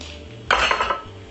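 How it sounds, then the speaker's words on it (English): A wire whisk beating eggs in a bowl for a school-friendly lunch recipe: a brief burst of rapid metallic clicking and scraping, close and fairly loud, lasting about half a second, with no talking. "a whisk like this and just give it a nice lovely whisk"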